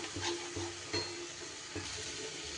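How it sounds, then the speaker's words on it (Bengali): Beaten egg fries with spices in a pan for an okra dish, soft sizzling under a few distinct stirring scrapes against the pan, fairly quiet and without speech. "ডিমটা দিয়ে মশলার সাথে ভালো করে নাড়িয়ে চাড়িয়ে"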